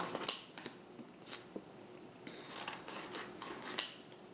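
Scissors hand-cut vinyl stickers into small squares, giving a few sharp, close snips scattered through a quiet room, with faint rustling between cuts and no talking.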